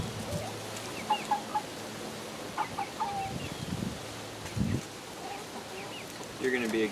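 Chickens and a young rooster cluck and call in a backyard, short bursts scattered over steady outdoor background noise, with a person talking at times.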